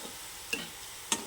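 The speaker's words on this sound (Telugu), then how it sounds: "వేసుకొని పచ్చివాసన పోయే వరకు వేయించుకోవాలి" Turmeric frying in a pan for an ivy gourd curry, with a steady low sizzle and two brief stirring scrapes, close and fairly quiet.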